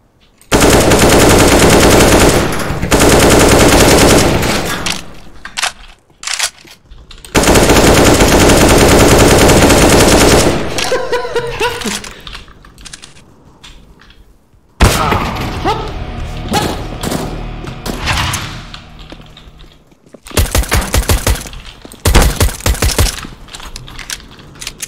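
Automatic AK rifle fire in a war video game comes in long loud sustained bursts with pauses between them, followed by shorter choppier volleys and thuds, with some talk mixed in.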